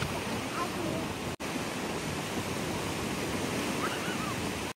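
Ocean waves wash onto a beach in a steady, broad roar of surf that holds constant with only a couple of momentary dropouts, and no voices are heard.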